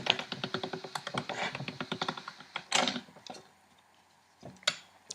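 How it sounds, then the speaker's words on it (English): Polymer clay cranked through a hand-operated clay machine on its thickest setting, giving a rapid run of dry ticking clicks that gradually slows and thins out, with a couple of isolated knocks near the end. "I'm going to place it in our clay machine on the number 1 setting."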